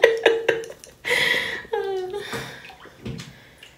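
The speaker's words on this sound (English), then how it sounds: "let me get out of this bathtub" Water sloshing and splashing as someone climbs out of a hotel bathtub after soaking, with a few sharp splashes followed by denser splashing and dripping, close by and moderately loud.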